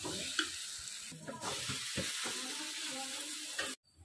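Tomato masala hitting a hot frying pan with potatoes and green chillies, giving a steady loud sizzle with stirring scrapes throughout, then cutting off abruptly near the end.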